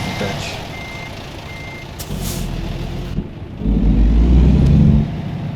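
A truck in the American Truck Simulator video game reversing, with a few beeps, a sharp air-brake hiss and then a deep rumble of the engine, while a voice talks.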